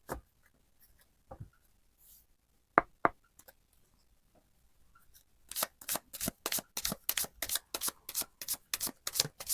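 Tarot cards are handled quietly with scattered taps and slides at first, then shuffled in a quick, rhythmic run of crisp riffles that grows louder and continues to the end.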